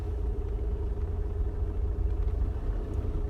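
A car engine pulls away on a hill start with light throttle, giving a steady, close, low rumbling drone that holds even throughout with no voices.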